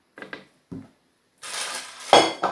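Metal cooking pots clanking and scraping while being polished with a banana peel, with a few sharp knocks followed by longer rubbing and clattering handling, close by and without talk.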